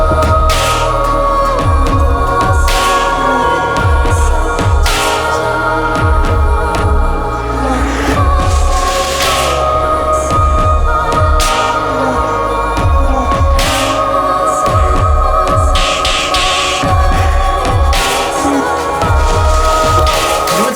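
Ambient intro track from an album, with sustained layered tones, sparse percussive hits and deep low pulses running steadily throughout at a constant loudness, with no voices.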